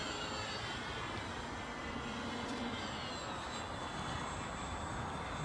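Engine of a foam RC model airplane built from balsa plans, flying with a long nose lever; a steady, continuous hum carries unbroken throughout at moderate distance with no talk.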